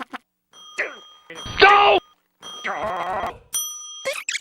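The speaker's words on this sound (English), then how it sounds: "stop ringing this bell" A bell rung in a cartoon scene, a bright ringing tone with a short decay, between bursts of speech and other effects.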